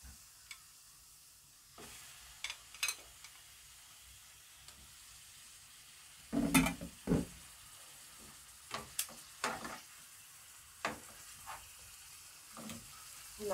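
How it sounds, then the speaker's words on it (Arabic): Chicken drumsticks sear in a spoonful of farmhouse ghee in a pan over the heat, giving quiet, intermittent sizzling bursts and crackles with pauses between them and no talking. "انا هنا عندي طاسة حطيت فيها معلقة سمنة فلاحي على النار، وهناخد دبابيس الفراخ هنديهم الصدمة"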